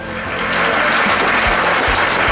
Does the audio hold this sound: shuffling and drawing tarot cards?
no